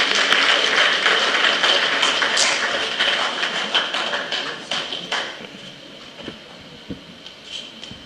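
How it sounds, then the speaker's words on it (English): Round of applause from the audience at a stakeholders' engagement event, a dense wash of clapping that is loud at first, then thins out into scattered, fading claps toward the end. "please, a round of applause."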